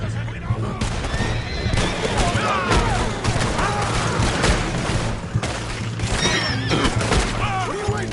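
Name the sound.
gunfire in Red Dead Redemption 2 video game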